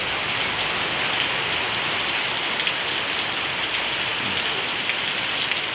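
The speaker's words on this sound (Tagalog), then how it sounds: "Lakas pa po ng ulan niya." Steady heavy rain from a typhoon pours down without pause on a roof, a dense hiss of drops drumming on a surface, loud and close with no voices.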